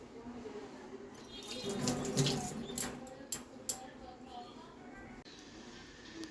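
Tap water runs steadily into containers being filled at home for the next day, a soft continuous splash with a few sharper knocks of the vessels, no speech.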